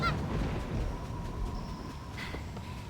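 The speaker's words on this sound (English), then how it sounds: "How many of these seagulls are there?" Seagulls squawk in the video game Blade and Soul, a few honking bird cries over a busy game soundscape, brief and moderately loud.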